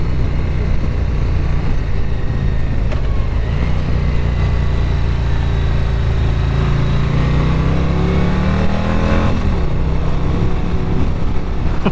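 A Harley-Davidson touring bagger motorcycle engine, a 2024 Street Glide or Road Glide, drones loudly and steadily with a rising revving pitch as it accelerates on the road, with continuous wind and road noise throughout.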